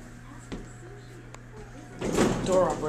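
A Schindler elevator's door operator at a former mall department store drives the sliding doors with a sudden, loud rumbling slide after a quiet stretch marked by a couple of faint clicks.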